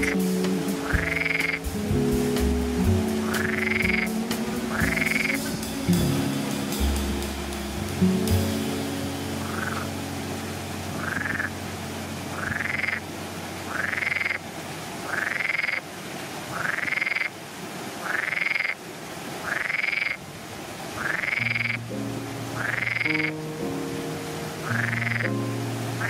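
Frogs croak in a regular series of loud, evenly spaced calls at the Lac du Pêcher in the Cantal, rising over a steady outdoor wash after a stretch of low tonal sound.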